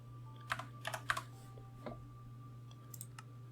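Server address typed on a computer keyboard, a few quick clusters of close, crisp key clicks, then a short pause and a couple more taps, quiet over a low steady hum.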